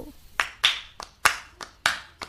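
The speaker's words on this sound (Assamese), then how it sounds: "বলকচোন একেলগে হাত চাপৰি বজাওঁ" A small group claps hands in unison to a Bihu song, six or seven sharp, evenly spaced claps that sound close and fairly loud, with quiet gaps between them.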